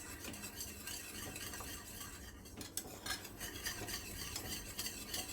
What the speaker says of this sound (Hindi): और इसको जल्दी जल्दी मिक्स करेंगे